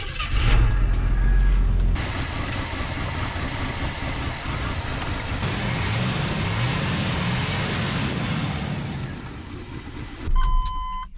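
An old car engine turns over, rumbles loudly for a couple of seconds, then settles into a steady, rough idle that continues close by before a brief surge near the end.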